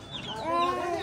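Chickens clucking close by in a family's yard, a short continuous stretch of busy, overlapping fowl calls with no speech.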